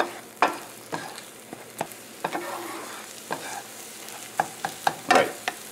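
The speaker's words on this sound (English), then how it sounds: "You're just going to cook these eggs till you get the goo out of them." Eggs scrambling in a frying pan alongside already-cooked bacon: a soft continuous sizzle punctuated by irregular scraping and tapping strokes of a utensil stirring the mixture, close and fairly quiet.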